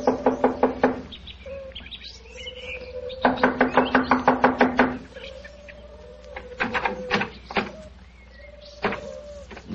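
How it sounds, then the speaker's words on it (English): Two bursts of rapid knocking on a door in a radio drama, crisp evenly spaced raps close by, then scattered softer taps and brief tonal sounds in a quiet room. "I'll knock on the door."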